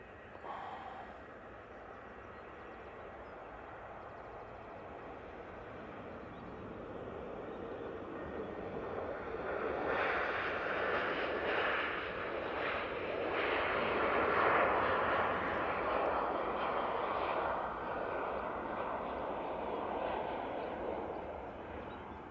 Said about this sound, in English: Lovely 737-800 for Ryanair.